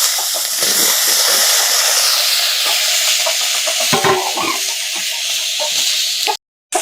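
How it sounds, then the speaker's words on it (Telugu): Tomatoes frying in a pan over a tempering of lentils, cumin and curry leaves for a tamarind and red chilli chutney, giving a steady loud sizzle with stirring scrapes, cut by a brief silence near the end. "ఇప్పుడు టమాటాలు వేస్తున్నా."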